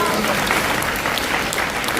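A church congregation at a Hindi worship service claps together in praise of the Lord, a dense, steady burst of many hands close by with no pause.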